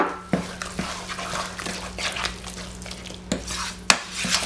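Flax seeds being stirred into a bowl of mixture for a breakfast slice, soft scraping and a few sharp clinks of a utensil against the bowl, fairly close, with no talking.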